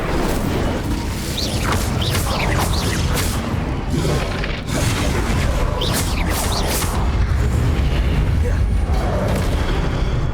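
In the Hogwarts Legacy video game, an Incendio fire spell goes off amid dense combat noise: continuous rumbling booms and sharp bursts, loud and layered without pause.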